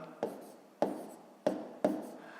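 Pen or pencil writing the number 12.1 by hand for a column subtraction exercise, four short separate strokes spaced about half a second apart, close and quiet with no talk.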